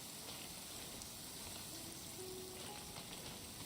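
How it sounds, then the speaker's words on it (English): Soft, steady hiss of rain falling continuously in the video game Genshin Impact, even and unbroken at a low level with no voices. "It's raining again."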